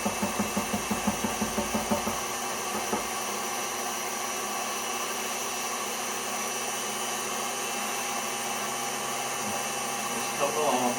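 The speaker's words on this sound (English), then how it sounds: "we're going to let the Kitchen Aide mix it all together" KitchenAid stand mixer with the whisk attachment beating a whipped cream mixture for banana pudding ice cream, a steady close motor whir with rhythmic pulsing in the first two seconds, then a continuous even hum.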